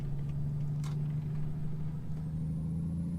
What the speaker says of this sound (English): it makes a lot of noise, this truck